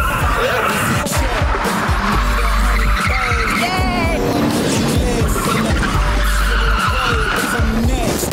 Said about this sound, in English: We're gonna be racing Hollywood stunt cars.